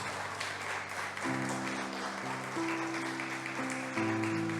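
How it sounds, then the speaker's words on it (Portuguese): Church congregation clapping in praise while sustained keyboard or organ chords play along, the applause soft and continuous beneath the music. "Dê uma salva de palmas para o Senhor."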